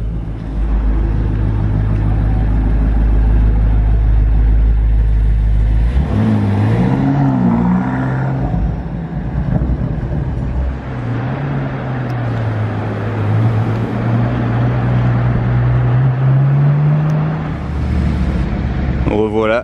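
A 2020 Audi RS6 fires up from cold, a loud rumbling engine catching and revving hard before dropping to a steady throaty idle that rises and falls, close by and dominant throughout.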